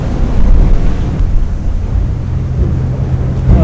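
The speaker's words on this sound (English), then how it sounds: "the wind is fucking brutal right now" Strong coastal wind at a Maine lighthouse, roaring and buffeting the microphone in a steady, loud, low rumble that continues without a break.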